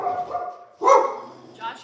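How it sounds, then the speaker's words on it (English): A dog barks once, loud and close, in a home with people around. Indistinct voices murmur before the bark, and a softer yelp or second vocal sound follows shortly after. "Don't bark at him."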